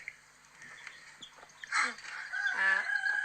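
Hen Frisbee and her chicks in a coop, with soft clucks and chirps, a louder squawk midway, then a rising, wavering call near the end over faint background noise.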